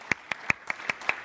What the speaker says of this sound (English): So a big round of applause for all our presenters.